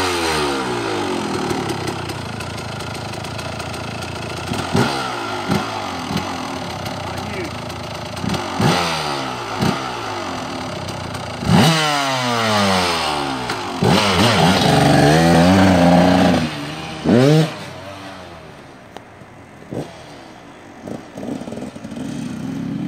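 A 2002 KTM MXC 200 two-stroke dirt bike revs hard and loud nearby, with repeated throttle blips and rising, falling whines as it pulls away and shifts through gears, then settles back near idle.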